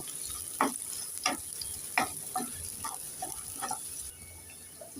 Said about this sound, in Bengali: এবার নেড়ে চেড়ে পেঁয়াজটাকে একটু নরম করে লাল করে ভেজে নেব